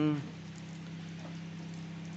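Steady rain falls outdoors near fishing nets, making a soft, even hiss with a faint low hum underneath and a brief louder sound at the very start.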